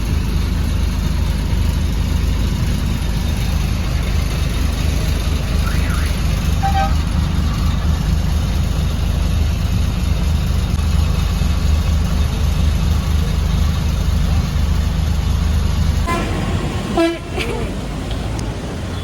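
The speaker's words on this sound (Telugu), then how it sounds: "ట్రాఫిక్" Road traffic in Vizag: vehicle engines idle in a dense, loud, continuous rumble, with repeated car horn toots and honks close by, and a sharper burst of horns near the end.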